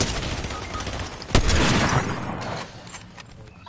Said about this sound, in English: Oh, it's a bot shooting me.